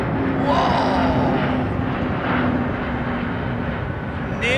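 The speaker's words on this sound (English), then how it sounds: "No, it's a BA jet." A British Airways jet passing overhead at sunset departures, a loud continuous roar with a faint whining tone, steady throughout without talk.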